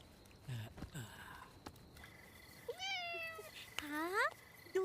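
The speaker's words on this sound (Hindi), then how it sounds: "हाँ, दूसरी बिल्ली।" A cat meows in a rising, drawn-out call twice close by, after a short burst of shorter cries and rustling in a quiet village home.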